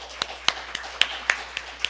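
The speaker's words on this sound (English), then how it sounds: "I think we need to give them a round of applause for those" An audience at a spiritual centre service claps for the musicians after their songs, a sparse, light patter of separate claps heard fairly close.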